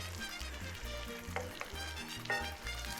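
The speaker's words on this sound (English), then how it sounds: "Now we're gonna baste this in the butter." Steak frying and basted in butter and olive oil, with a steady close sizzle and a repeating low thump as the fat is spooned over the meat.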